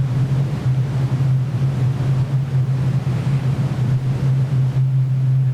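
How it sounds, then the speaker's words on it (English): White noise from a noise oscillator in a Max patch plays as a steady, loud, continuous broadband hiss with a constant low hum running underneath, unchanging for the whole stretch. "Here is the noise oscillator, so that's the main sound source."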